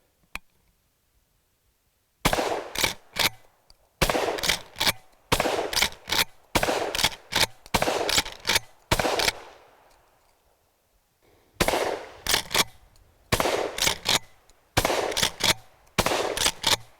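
Weatherby PA-08 12 gauge pump-action shotgun fired in two strings of loud, sharp blasts, each shot followed closely by the clack of the pump cycling, with a pause in between and outdoor quiet around them.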